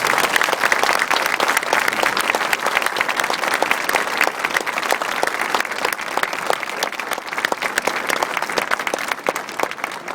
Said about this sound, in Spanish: vamos a rogar un fuerte aplauso estremecedor para este personaje de talla internacional